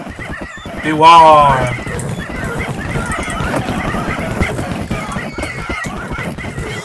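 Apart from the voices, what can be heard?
horse neighing, from a video game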